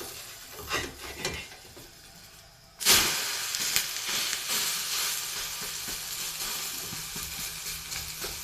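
An omelette hits the pan after being flipped and bursts into a loud sizzle, which then settles into a steady crackling fry. Quieter pan sounds come before it.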